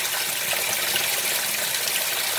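A Speed Queen washing machine fills with warm water on a delicate cycle, a steady close gushing rush of water pouring into the drum with no voices.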